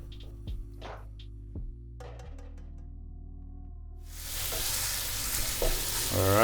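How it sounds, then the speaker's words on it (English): Bacon for carne en su jugo hitting a pan, starting with a few clinks and stirring knocks, then breaking into a loud, steady hissing sizzle that builds toward the end. "we're gonna saute this up"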